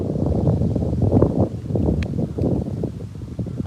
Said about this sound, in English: It wasn't this windy or anything.